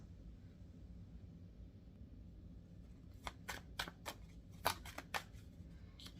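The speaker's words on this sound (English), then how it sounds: "let's go ahead and get our tarot cards" Tarot cards being shuffled by hand: a quiet room hum, then a quick series of crisp riffling flicks in the last few seconds, close and fairly soft.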